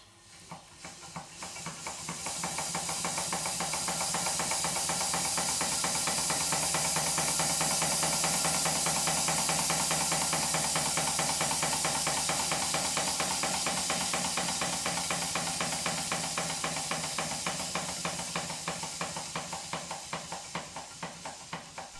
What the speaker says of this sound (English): remove the centre coupling and run the engines individually to see which one's making the most noise